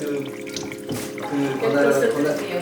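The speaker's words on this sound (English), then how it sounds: "So we wash the rice, but without a colander" About a kilo of rice is washed in water without a colander, with close sloshing, swirling and trickling. A voice speaks over part of it.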